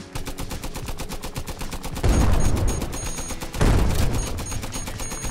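Rapid automatic gunfire in the video game Guns'n'Stories: Bulletproof, a steady loud rattle of shots punctuated by two heavier booming bursts, with no voices.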